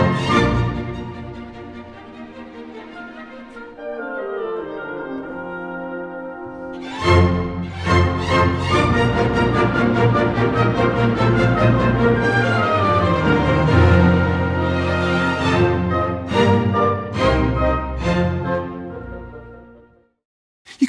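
A full orchestra swells from a quiet, sustained opening into a loud, dense passage with bright accented chords, then cuts off abruptly.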